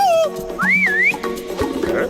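Cartoon whistling in a Hindi-dubbed Munki and Trunk episode: a few sliding, wavering whistle notes, loud and close, with clunky cartoon sound effects around them.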